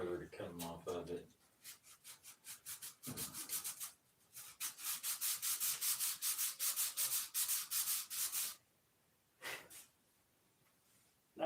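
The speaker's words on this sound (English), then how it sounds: "I had to sand mine almost flat on it to get that burr to come off of it." Rhythmic back-and-forth sanding strokes rub a part almost flat to remove a burr on a cooling system, in a fast, steady series of close scrapes with short pauses.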